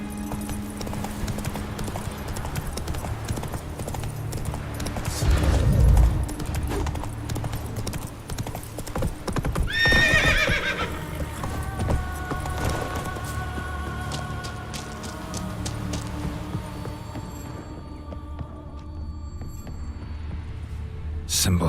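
Roach the horse gallops in The Witcher 3, a steady run of hoofbeats with a snort or whinny mixed in, under game music and a voice speaking partway through.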